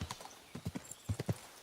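Horse hooves in the video game Kingdom Come: a short run of close, clear clip-clop hoofbeats in uneven clusters, with a faint whinny-like tone under them.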